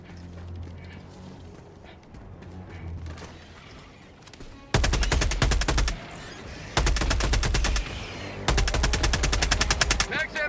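Gunfire erupts in the Helldivers video game as long rapid automatic bursts, loud and close, in three sustained volleys after a quieter stretch of game ambience.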